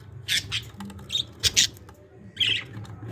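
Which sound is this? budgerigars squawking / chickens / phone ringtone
budgerigars squawking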